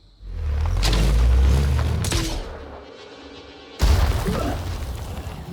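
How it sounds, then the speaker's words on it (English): A rocket fired in the turn-based tactics game Phoenix Point streaks off with a loud whooshing boom, then a second sharp explosion bursts a couple of seconds later and fades into rumbling debris. "we're just going to shoot a rocket here"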